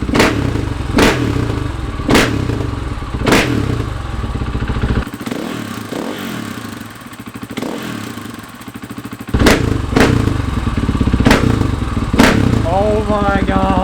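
Supermoto motorcycle fitted with an FMF Factory 4.1 RCT exhaust, loud and close, blipped in repeated revs with sharp cracking pops between a rough idle, its pitch rising and falling throughout.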